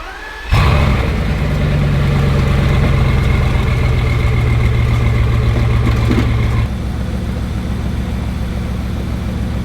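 A Bugatti Veyron engine runs after its ignition coils were swapped, starting abruptly with a loud steady idle drone that settles slightly lower partway through, with no talk over it.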